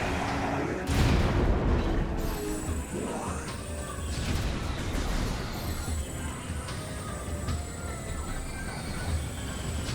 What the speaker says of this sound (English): I guess this is what I get for just firing super missiles with wild abandon